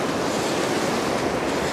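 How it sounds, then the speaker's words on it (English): Ocean waves break on a beach in a continuous loud wash of surf, with wind noise on the microphone and no voices. "so the waves are naturally coming towards me here"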